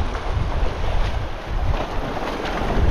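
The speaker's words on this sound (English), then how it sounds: "Keep an eye on these incoming waves." Ocean waves surge and wash against a rocky breakwall on a windy coast, a loud, continuous rolling rush with gusty wind buffeting the microphone and no voices.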